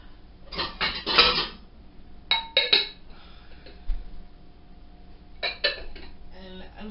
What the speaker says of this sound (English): And I'm sorry for the loud noise. That's just what happens when you do dishes.